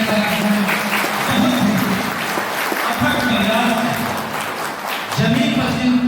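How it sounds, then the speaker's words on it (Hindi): Audience applause at a retired teachers' farewell ceremony in Ormanjhi, steady broadband clapping across the whole stretch with a few swells, mixed with background voices and some tonal murmuring. "इनके लिए जोरदार तालियां"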